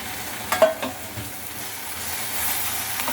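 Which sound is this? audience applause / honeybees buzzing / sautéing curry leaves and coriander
sautéing curry leaves and coriander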